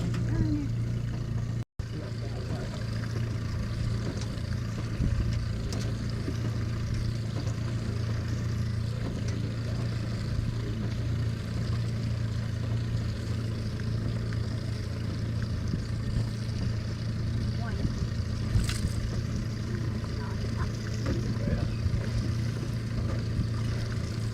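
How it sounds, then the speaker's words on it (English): Constant low motorboat engine drone across Pomme de Terre Lake, heard from a pontoon, steady and somewhat distant, with faint lapping and occasional light knocks throughout. "The boat traffic is really bad."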